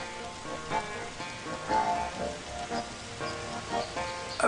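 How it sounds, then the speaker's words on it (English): Video game rain patters steadily on jungle leaves, a soft drumming of many drops with scattered louder plinks throughout. "The jungle now echoes to the gentle drumming of rain on the leaves."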